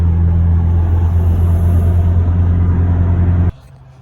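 A Mitsubishi Evo X cruises along salty winter roads with a steady low engine and road-noise drone. The sound holds constant, then cuts off abruptly near the end.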